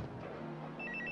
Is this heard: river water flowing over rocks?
no